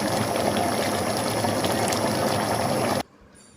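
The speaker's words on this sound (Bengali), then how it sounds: "একটু নেড়ে দিচ্ছি।" Mixed vegetables with coriander leaves are stirred in a cooking pot, making a dense, continuous sizzling wash up close that stops abruptly near the end, leaving quiet.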